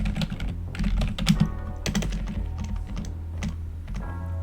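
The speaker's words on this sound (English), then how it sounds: "I don't know what word I was typing there" Rapid typing on a computer keyboard, close and clear, with irregular bursts of key clicks and a few heavier thunks from larger keys, continuing steadily without talk.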